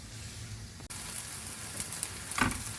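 Onions sautéing in a pan for a puttkutti biriyani, a steady soft sizzle with faint crackles and a brief stirring scrape near the end, no voices.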